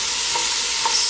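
Vegetables sizzle steadily in a hot pan while being stirred, with two soft scraping strokes of the spoon over a constant, close frying hiss.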